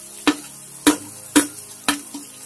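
Mint, curry leaves and tomato pieces fry in a pan for tomato mint rice, with four or five evenly spaced sharp scraping stirs over a steady sizzle, close and without talk.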